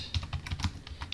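Keys clatter on a computer keyboard in a quick burst of several close taps, with no voice over them.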